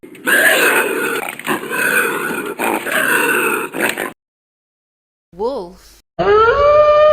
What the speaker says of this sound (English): bobcat